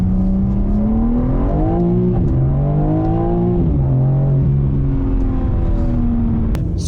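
A BMW M4 Competition accelerating hard, its engine note climbing steadily through the gears in loud, sustained pulls with brief dips at each shift, close and continuous with no talking.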